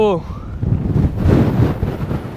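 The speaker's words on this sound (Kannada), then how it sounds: "ಗಾಳಿ ಫುಲ್ಲು ನಮ್ಮನ್ನೇ ತಳ್ಳಿ ಬಿಸಾಕ್ತಾ ಇದೆ" Strong wind on a hilltop viewpoint buffets the microphone in a loud, continuous low roar with gusty surges, briefly preceded by a short vocal sound.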